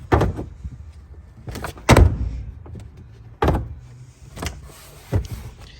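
A car boot popping open, heard as a few sharp separate mechanical clunks and thumps with quiet gaps between them, close and fairly loud, with no talk.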